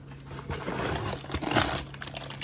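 A plastic bag crinkles and rustles close by as a packed box is unpacked, a continuous soft crackling with a few louder crunches.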